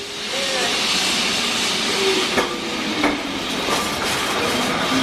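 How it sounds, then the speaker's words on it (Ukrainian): A yellow Lisbon number 28 tram rumbles in with a steady broadband hiss and faint squealing tones from the rails, close and fairly loud. "А ось і трамвай, я його чуть не пропустила"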